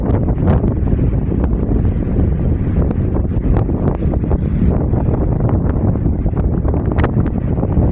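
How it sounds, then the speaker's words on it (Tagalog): Strong wind at an outdoor pool in Bahrain roars and buffets the microphone nonstop, a loud rumbling rush with gusty swells throughout. "Super hangin. Grabe ang hangin."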